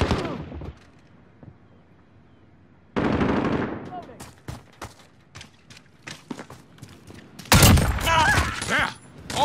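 An enemy sentry gun firing in Call of Duty Modern Warfare, rapid automatic bursts of close gunfire broken by short gaps, with voices calling out over the action.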